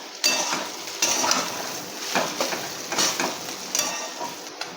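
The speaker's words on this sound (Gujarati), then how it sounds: "હવે આપણે બધું મિક્સ કરી લઈશું" Bitter gourd curry, Gujarati karela shaak, is stirred and mixed in a pan with irregular spoon scrapes and clinks against metal over a soft sizzle, all close up.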